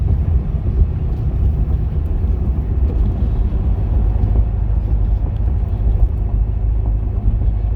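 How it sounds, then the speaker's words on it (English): A Corvette Z06 with an LS3 engine pulls hard through the gears, giving a loud, steady, deep engine rumble that stays close and constant for the whole stretch, with no voices. "maybe one or two pulls just through second gear, maybe once, and if maybe third gear"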